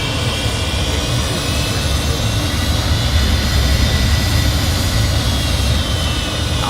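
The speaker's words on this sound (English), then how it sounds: "So I want to hear these sounds outside when you spool up the engines." Jet engines of an MD-80 in Microsoft Flight Simulator 2024 roar steadily and loudly from outside the airliner, a continuous broadband rumble and whine holding level throughout with no talking.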